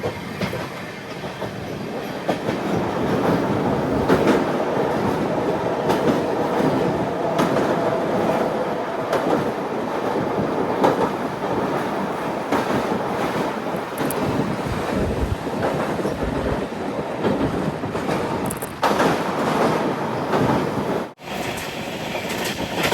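An Intercity Express on the Bengaluru–Ernakulam route runs toward Thrissur, giving a steady loud rumble of wheels with rhythmic clickety-clack and rattling carriage noise from inside the coach, briefly dipping near the end.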